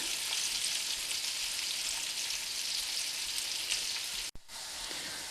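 Bream fish sizzle and crackle steadily in hot oil in a pan, a dense, even frying hiss that cuts out for an instant near the end.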